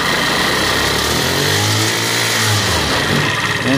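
An old scooter engine, abandoned for a long time and now running smoky on jumper cables, revs up and down close by. The loud, buzzy rasp rises and falls over a rough idle.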